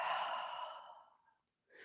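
A long, deep exhale during a yoga class, a breathy rush that fades out over about a second and a half and is followed by a short pause.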